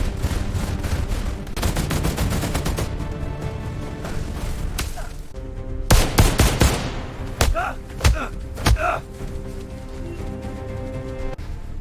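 Bursts of gunfire, first a rapid continuous volley, then separate loud shots spaced apart, with faint voices between them.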